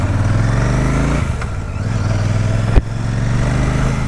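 Royal Enfield Super Meteor 650 cruiser motorcycle being ridden, a steady low engine drone with a faint rise in pitch and a brief sharp knock midway, loud and continuous with no talk.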